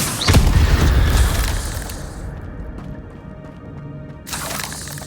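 A fiery Incendio spell blast in Hogwarts Legacy bursts loud and close at the start, a deep booming whoosh that fades into a softer lingering rumble over the next few seconds.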